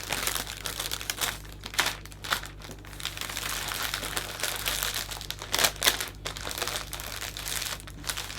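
Cellophane wrapped around a hand-tied Christmas flower bouquet, crinkled and gathered into a ruffle, giving close, irregular crackling bursts and rustles, some sharp and some soft, with no talk.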